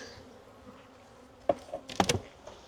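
Honeybees buzz around a hive being requeened, a faint hum under a few close, sharp buzzing passes of bees flying near.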